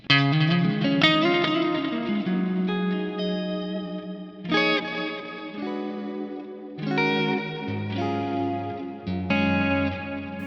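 Electric guitar phrases through a Helix delay effect, repeating echoes trailing each note, steady and fairly loud, with a wash of reverb and no voices.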